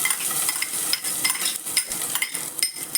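Grated coconut roasting in a little ghee in a pan, a continuous close crackling sizzle with frequent quick scraping strokes of a spoon across the pan.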